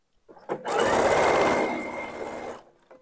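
Sewing machine running a 1.5 cm seam joining a doubled waistband to the back piece of homemade men's shorts, one continuous close, loud whirring burst of about two seconds.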